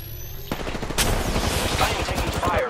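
Video game gunfire aimed at the player, a Phoenix-kit loadout: dense, rapid automatic bursts crackling without letup, loud and close, starting abruptly after a quiet moment.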